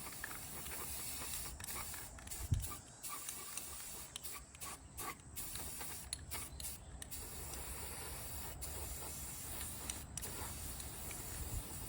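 Close, steady hiss of 2X spray paint in satin espresso being sprayed onto an old LP tank, continuous with brief pauses and slight variations in pressure.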